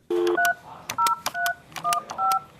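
Rapid touch-tone telephone keypad dialing, about eight short electronic beeps in quick irregular succession, loud and close with no voices.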